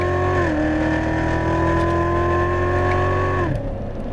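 A Corvette C7 Z06 races around a track at Exotics Racing Las Vegas, its loud engine holding a steady droning pitch between two upshifts, each marked by a brief drop in tone before it pulls on again.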